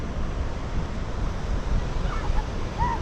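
Ocean waves wash steadily at the Merewether ocean baths in Newcastle, a continuous broadband surf roar mixed with wind buffeting the microphone, with no talking.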